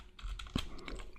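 Keystrokes on a computer keyboard while entering code for a JavaScript tutorial, a short burst of soft, close clicks at an uneven pace with one sharper tap in the middle, no talking.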